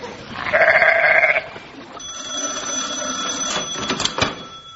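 Sheep bleating in a comedy radio scene, one loud nasal bleat followed by a longer, wavering cry over a faint background hum.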